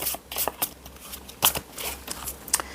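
Tarot cards being shuffled by hand, a string of quick papery riffles and soft slaps in uneven bursts, close and fairly quiet, with no voices.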